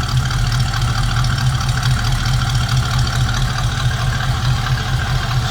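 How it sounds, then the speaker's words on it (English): A healthy 289 V8 in a 1967 Ford Mustang convertible idles with a steady, loud, low rumble that stays even and continuous throughout, with no voices over it. "Very healthy sounding 289. A little rumble coming out of that V8."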